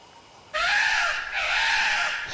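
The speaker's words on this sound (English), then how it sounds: "Scary crows." Harsh crow caws from the video game Death Mark, a loud continuous burst of cawing that starts abruptly and runs on with a brief dip midway, heard alone without talk.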